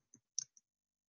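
Three faint, quick clicks from a computer keyboard, spaced unevenly over about half a second, with silence around them.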